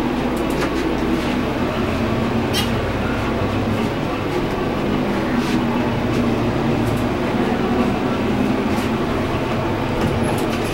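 A Dover hydraulic elevator with a 2,100-pound capacity at a Fairfield Inn in Amarillo, Texas, travels between floors, giving a loud, steady low rumble with faint scattered clicks, heard from inside the cab without talk.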